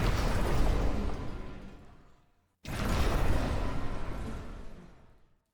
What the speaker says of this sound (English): Dark magic.